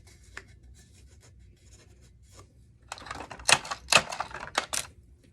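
Tape rubbed firmly across a tumbler by hand, first a few faint scratches and then a burst of loud, close rasping strokes in quick succession, with no voices.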